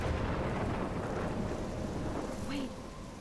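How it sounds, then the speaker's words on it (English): Thunderstorm in the video game Life is Strange: steady heavy rain and rumbling thunder fill the scene loudly and continuously, with wind mixed in and no voices. "I'm trapped in a storm?"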